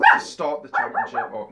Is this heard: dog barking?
yes